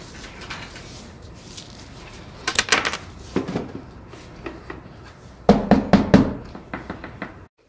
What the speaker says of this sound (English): Let's put one more coin.